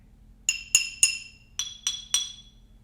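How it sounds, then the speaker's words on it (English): Glass objects mounted on raised slats of a homemade instrument are struck six times in a quick, bright series, each clink ringing briefly and fading before the next, close and clear with no talking. "Let's just check in with these glass objects and make sure it's also the same."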